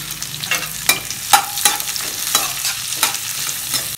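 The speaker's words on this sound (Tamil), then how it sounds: "போட்டு நல்லா வதக்கிக்கலாம்." Onion and green chilli sauté in coconut oil, a sharp sizzle broken by rhythmic scraping strokes of a spoon roughly twice a second, close and alone.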